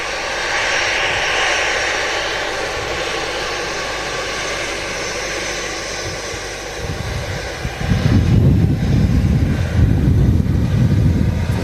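A steady, loud roar of aircraft engines at Manchester Airport that swells into a deeper, heavier rumble toward the end, with no voices over it.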